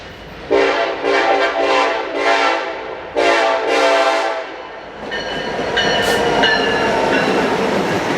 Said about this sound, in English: here comes another westbound freight about to blow through Fullerton with an ace leading